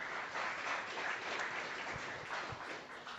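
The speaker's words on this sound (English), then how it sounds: "One more round of applause." An audience at an annual awards event claps in a steady, moderately distant round of applause that holds for several seconds before easing slightly.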